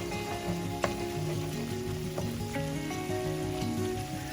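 Masala paste for mutter paneer frying in hot oil as it darkens to a deeper red, a steady close sizzle with soft crackles and occasional sharp pops.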